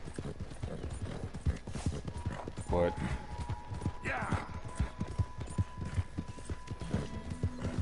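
Hooves of a video game horse clip-clop steadily at a walking pace, with a brief whinny partway through and someone talking over the sound.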